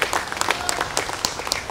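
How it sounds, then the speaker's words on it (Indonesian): Applause for senior figures at a Democrat party anniversary gathering in Indonesia, a sparse scattering of claps spread across the moment rather than a dense roar, at moderate volume with no talk over it. "diberikan tepuk tangan yang sekeras-kerasnya kepada para senior kita"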